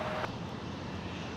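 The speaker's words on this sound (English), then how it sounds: "we got Southwest 374, Boeing 737-700 departing to LAX" Southwest Boeing 737-700 jet departing San Jose airport, a steady broadband engine roar at moderate distance after a brief louder burst at the start, with no talk.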